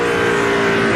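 Ryan Newman's NASCAR race car at the 2002 Pennsylvania 500, its engine turning around 9,000 RPM, gives a loud, steady, high-pitched roar that fills the whole second without a break.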